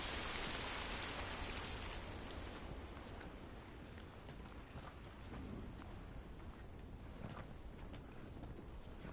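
Steady rain hiss in a PS4 video game, loud at the start and then easing to a constant wash of drops with faint thuds, heard alone without voices.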